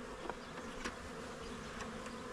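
Honeybees swarming around a backyard hive as a package is installed, a steady, close buzzing drone with individual bees passing near.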